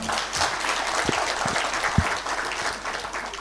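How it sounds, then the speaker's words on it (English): Hearty audience applause at a hybrid grant-writing workshop for Kenyan researchers, a sustained wash of many hands clapping with a few sharper nearby claps standing out, moderately loud throughout. "Give him a hearty clap."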